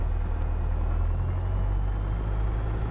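A small piston aircraft engine held at 1700 RPM during a pre-flight run-up, droning loud and steady with a deep pulsing rumble and no talk over it.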